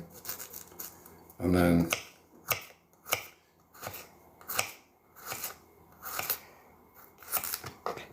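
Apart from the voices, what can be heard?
knife slicing through an onion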